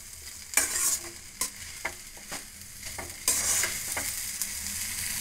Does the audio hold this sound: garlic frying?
yes